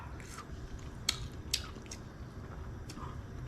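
Close, quiet chewing of tender bottle gourd leaves and soft stems in snakehead fish curry, with a few brief, moist bites spaced irregularly over a low steady background hum and no talking.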